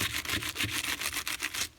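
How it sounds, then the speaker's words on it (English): A Big Shot die brush scrubbed over a metal cutting die in paper crafting, making quick, rhythmic close-up scratchy rubbing strokes, about a dozen in under two seconds. "I'm going to take my Big Shot die brush and just rub it over that and loosen up those little bitty"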